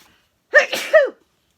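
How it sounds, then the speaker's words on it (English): A single loud adult sneeze, close up, with a sharp intake and burst lasting about half a second, then quiet. "I'm going to sneeze,"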